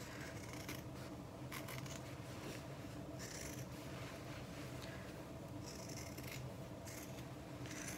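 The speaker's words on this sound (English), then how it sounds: "we're just going to trim the seam allowance" Scissors trimming the fabric seam allowance on a toiletry tote, a close, quiet, continuous run of rasping snips and rubbing with no voice over it.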